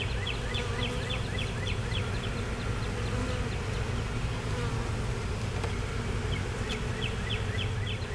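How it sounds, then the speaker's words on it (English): Dense, steady buzzing of a honeybee swarm under a house, continuous and close, with faint chirps of birds in the background. "So what these bees are doing, they're just kind of hanging out."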